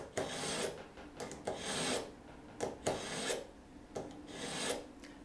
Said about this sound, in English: you're just going to run your blade through your sharpener and towards you